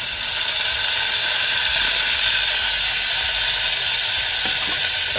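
Squid sizzling in a hot pan with onion and garlic for sinampalukang pusit, a loud, steady, close hiss of frying that runs without a break and with no talk.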